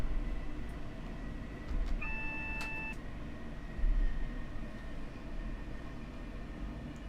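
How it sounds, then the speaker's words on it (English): A Mk4 DVT-led train in a simulator slows toward a signal, with a steady low rumble of rolling stock throughout, a brief electronic tone near the start, and a couple of louder bumps. "So I'm going to slow the train right down now."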